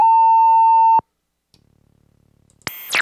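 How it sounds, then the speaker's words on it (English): A Lowstepper modular synth module makes dial-up-like noises: a one-second pure beep tone, then a faint low buzzing pulse, then a loud burst of harsh, bright modem-style screech. "Very special dial-up kind of noises here."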